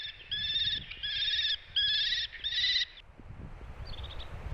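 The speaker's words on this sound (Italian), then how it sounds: "Il falco pecchiaiolo," A European honey buzzard calls in migration flight over woodland, four evenly spaced, drawn-out whistling notes followed by a fainter fifth, set against a low rumble of background noise.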